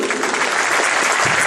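Steady applause from a group fills the moment, a dense continuous patter of hand claps without pause, close and fairly loud.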